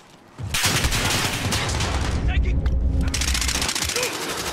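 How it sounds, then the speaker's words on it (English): Call of Duty battle audio: a cruise missile strike and gunfire burst in loudly after a brief quiet moment, followed by a sustained dense roar of rapid shots and explosions with a short dip partway through. "Allied cruise missile away"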